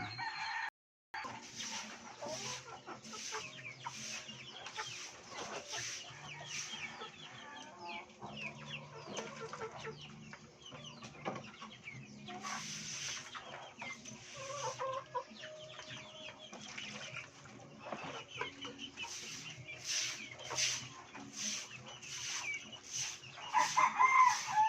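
A flock of rain-soaked chickens clucking steadily nearby, with occasional rooster crows rising above the busy, continuous farmyard chatter.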